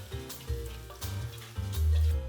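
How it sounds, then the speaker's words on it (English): Mushrooms sizzling and frying in a pan for risotto, with a few soft stirring scrapes and low clunks breaking up the steady crackle. "Mushroom starts frying."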